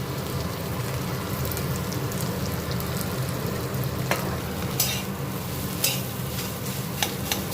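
Potatoes being mashed and fried with a metal spatula in a wok for a vegetarian dish, steady sizzling under irregular scraping and sharp clinks against the pan, with no talking.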